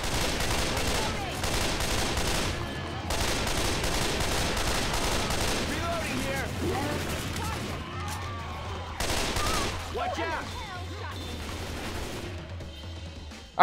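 Sustained gunfire in Left 4 Dead 2 during the Swamp Fever campaign, long rattling bursts broken by brief pauses, fairly loud and continuous throughout.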